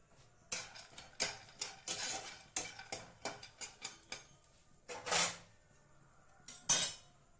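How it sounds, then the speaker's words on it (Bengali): Peanuts tossed in a hot wok with a couple of drops of oil give a series of sharp scraping clatters and rattles, close and irregular, with quiet pauses between strokes and no talk. "এইভাবে বাদামটাকে ভেজে নেবো।"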